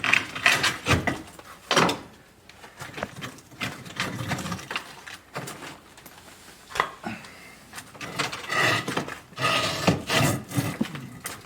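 A chisel chips out a sandstone brick wall. Irregular gritty knocks and scraping strikes repeat close by, some loud and some softer, with short pauses between clusters.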